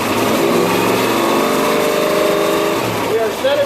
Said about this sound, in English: Now we're going to raise the RPM.